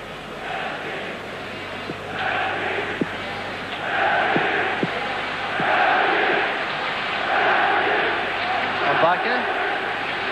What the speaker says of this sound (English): The Belgian crowd supporting their favourites now, building up a chant behind the Belgian goal.